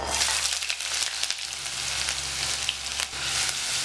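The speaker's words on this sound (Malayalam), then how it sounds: "നമ്മൾ എടുത്തു വെച്ചിരുന്ന ഇഞ്ചി, വെളുത്തുള്ളി, പച്ചമുളക് ഇതെല്ലാം ചെറുതായി ഞാൻ മുറിച്ചെടുത്തിട്ടുണ്ട്. അതിനകത്ത് ഇട്ട് മൂപ്പിച്ചെടുക്കുക." Chopped ginger, garlic and green chillies fry with fenugreek in hot oil, giving a constant loud sizzle with a few crackling pops and light stirring, with no voices.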